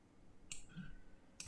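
Computer mouse clicks during an alt-click: a faint click near the middle and a louder, sharper click at the end, set against a quiet room.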